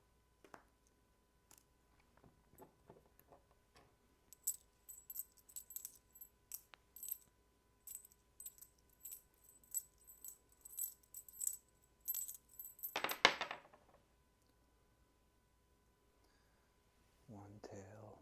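Coins are tossed by hand for an I Ching reading, clinking and jingling in quick, light rattles over several seconds. A louder scatter of metal lands near the end before a faint voice begins.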